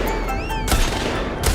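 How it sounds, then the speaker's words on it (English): Video game gunfire crackles in quick bursts of close, sharp shots, a short rapid volley with no talking. "Who the fuck is shooting at me?"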